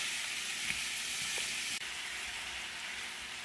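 Shrimp for tacos sizzle in a hot pan as a steady, close frying hiss, with a couple of soft stirring knocks and no talking.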